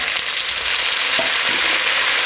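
Broad bean pieces frying in a pan of curry with potatoes, a loud, continuous, close sizzle with faint stirring knocks and no talking.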